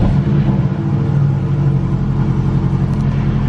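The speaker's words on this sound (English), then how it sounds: "here's a cold start for you guys" A four-cylinder car engine idles after a cold start with a steady, loud, close rumble and a faint uneven lope. No one speaks over it.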